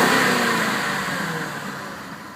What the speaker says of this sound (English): Let's go ahead and give her a little bit of revs